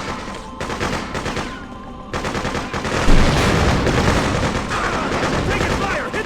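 Dense gunfire from the Freedom Fighters video game, with rapid automatic bursts and overlapping shots crackling continuously and loudly throughout, joined by a heavier burst near the middle, with shouting voices in the mix.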